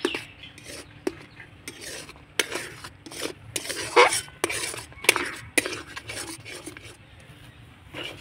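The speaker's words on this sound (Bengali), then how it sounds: "সুজিটাকে এভাবে করে অনবরত নাড়াচাড়া করে ডোয়ে পরিণত করে নেব" Spoon scraping and knocking in a pan as semolina dough is stirred continuously over low heat, irregular rubbing strokes with sharp metallic clicks, close and clear.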